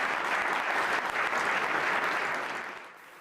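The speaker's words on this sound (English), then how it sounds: "In the end, Mkhize received an enthusiastic round of applause." An audience gives enthusiastic applause for a speech at a business and unions gathering, a dense, steady clapping that tapers off over the last half second.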